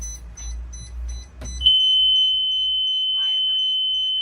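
A school bus emergency window buzzer sounds as a steady, piercing electronic tone that starts abruptly after low rumbling and a voice, then holds continuously.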